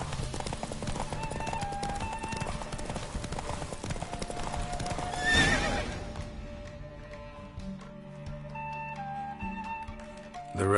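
Hooves of a horse galloping in a race in The Witcher video game, a steady rapid clip-clop with a brief whoosh midway and faint game music underneath.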